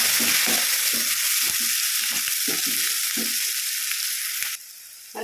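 Small onions and two green chilies frying in a pan while making oats upma, a steady loud sizzle with occasional stirring clicks, no voices, dropping quieter near the end.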